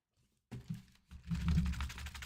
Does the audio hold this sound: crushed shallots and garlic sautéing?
no